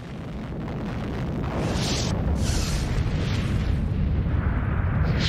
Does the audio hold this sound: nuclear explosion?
yes